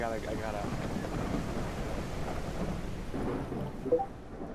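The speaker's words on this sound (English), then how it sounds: "Can you only hear the storm or something? All I can hear is storm." A video game thunderstorm gives a steady, heavy wash of rain with low rumbling thunder throughout and a brief louder swell near the end, moderately loud and continuous.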